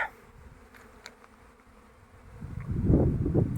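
Faint buzzing of honey bees near flowering rapeseed drifts in the background, then a gust of wind rumbles up and grows louder toward the end.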